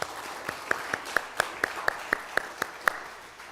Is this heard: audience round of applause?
yes